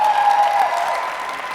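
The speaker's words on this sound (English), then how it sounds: "give yourself a big round of applause" Audience applause at a real estate presentation, a steady wash of clapping sustained throughout, fairly loud and continuous with no talk over it.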